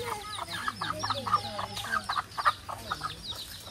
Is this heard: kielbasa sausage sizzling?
no